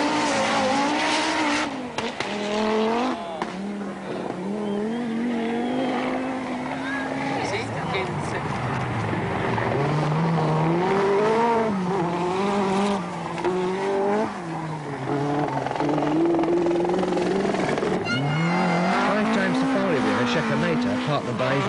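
Group B rally cars race along a mountain gravel stage of the 1985 Acropolis Rally, engines revving and wailing through rising and falling gear changes, close and loud, with a commentator talking over them.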